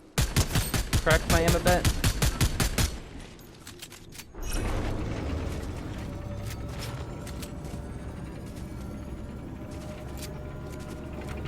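Exotic Maven gun in Fortnite Zero Build fired in a fast, even burst of about a dozen loud shots over three seconds, then fading into quieter game ambience while someone talks.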